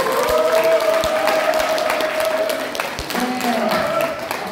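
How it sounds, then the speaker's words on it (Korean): Audience members at a Korean knowledge forum lecture clap after a professor's talk, steady close applause with a voice speaking over it partway through and a faint tone running underneath. "다시 한번 뜨거운 박수 부탁드리겠습니다"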